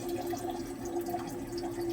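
Distilled water, about 100 ml, is poured into an acid mixture used to refine karat gold scrap and sterling silver. It makes a steady close trickle with a constant tone that runs through the whole moment.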